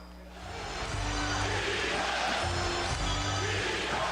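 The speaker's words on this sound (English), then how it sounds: "crowd calling for defense" A basketball arena crowd roars and chants for defense during a tight late-game moment between the Jazz and the Heat, a dense sustained wall of voices with rhythmic swells.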